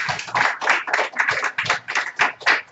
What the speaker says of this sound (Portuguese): Recebemos o pastor com palmas para Jesus.